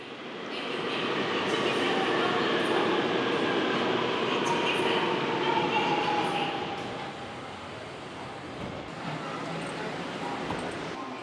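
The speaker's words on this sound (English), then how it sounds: "We're down at the subway station at Daegu Central Station" A subway train rumbles through Daegu Central Station in South Korea, a loud, sustained roar of wheels and motors that swells, then eases slightly as it continues, with faint squeals on top.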